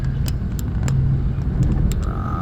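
Cars in heavy traffic on a bridge, a continuous close low engine rumble with brief clicks and rattles scattered through it and no voices.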